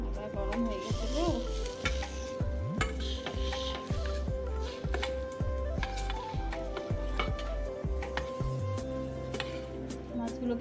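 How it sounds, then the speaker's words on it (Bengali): Fish hits hot oil in a pan and sizzles steadily, a continuous close frying hiss with scraping stirs, while a voice speaks underneath. "চলো মাছটাকে ছেড়ে দিই, তেলটা গরম হয়ে গেছে, মাছটা ফেলবো।"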